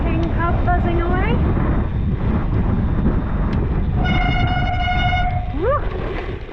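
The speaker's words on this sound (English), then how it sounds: "Love that sound of my Chris King cup buzzing away." A Chris King bicycle hub freewheels on a gravel ride across windy Wiltshire chalk downland, giving a bright, steady buzz with rising and falling sweeps, heard briefly over loud, constant wind roar.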